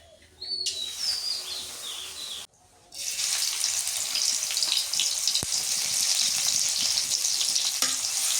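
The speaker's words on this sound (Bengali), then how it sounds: "শুটকিটা ভালো করে ধুয়ে নিছি" Dried fish being rinsed under running tap water, a steady broadband splashing rush that starts after a brief pause and continues loud, with bird chirps faintly in the background early on.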